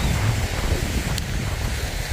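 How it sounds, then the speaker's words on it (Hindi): Seaside wind at Nickerie, Suriname, rumbles steadily against the microphone as a dull, continuous buffeting roar, with a faint wash beneath it and no voices. "बहुत अच्छी बीनी बीनी से हवा चल रही है"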